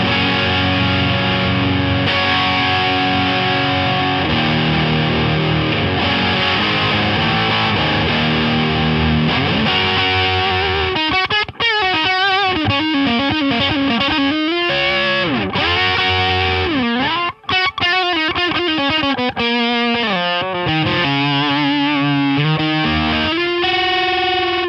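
Electric guitar played through the drive channel of an amplifier, heavily distorted with an effects-unit shimmer, sustained loud chords giving way to busy riffing and bends, continuous and close with no talking.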